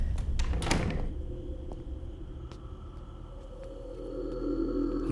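A door being shut, with sharp knocks and a rattling thud near the start followed by a lower rumble and a faint sustained tone, a few fainter clicks trailing off, no speech.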